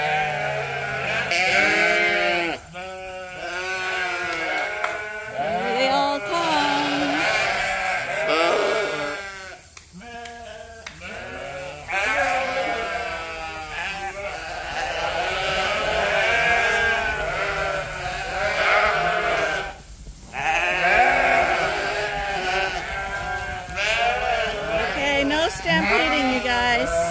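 Suffolk sheep in a breeding group bleat repeatedly, with many overlapping calls from several animals nearby and only brief pauses between bursts.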